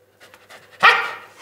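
A dog gives one loud, sharp close bark at a television, preceded by soft panting and faint whimpering sounds in a quiet room.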